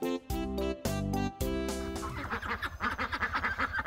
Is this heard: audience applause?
no